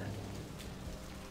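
Steady rain falls at night in the video game Vampire: The Masquerade - Bloodlines, set in Santa Monica, as a dense, even patter throughout.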